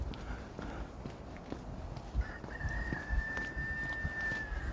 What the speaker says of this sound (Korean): 신명나는 닭 울음소리 들리고요.